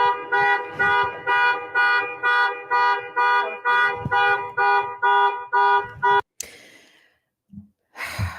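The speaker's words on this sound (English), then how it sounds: "I found it interesting, the car beeping in the background" A car alarm beeps in a steady repeating pattern, loud and close, about a dozen pulses before it cuts off, followed by brief rustling.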